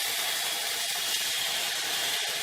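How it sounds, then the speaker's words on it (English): Egg noodles frying in two tablespoons of butter in a pan over low heat, a steady soft sizzling hiss, faint and continuous with no talk. "It's like you're almost frying the noodles in butter."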